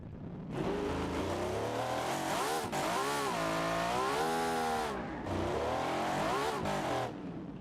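A custom truck with a V16 engine in BeamNG revs hard and screams, climbing and dropping in pitch through rising gear pulls, a brief break, then another loud surge before cutting off.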